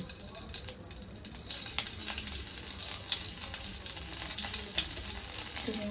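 Asafoetida sizzles steadily in ghee in a pan, a crackling fry with occasional sharper pops and faint clinks, continuous throughout.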